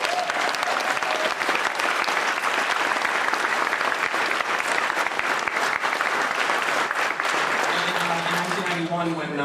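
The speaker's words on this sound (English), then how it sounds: "let's everyone in the room give a big round of applause to Robert" A room full of people at a comics event applauds, sustained and fairly dense clapping that carries on steadily, then fades as music rises at the end.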